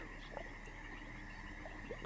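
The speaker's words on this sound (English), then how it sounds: "that means that those are spring peepers" Spring peeper frogs call in a Dwarf Fortress game scene, a faint steady chorus of small high peeps over a constant background hiss.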